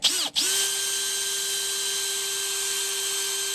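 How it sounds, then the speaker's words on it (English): A power drill with a small bit making a pilot hole in the roof of a 2020 Ford Ranger FX4, a loud, close, steady high whine after a brief dip at the start. "we started off with a small bit to make a pilot hole"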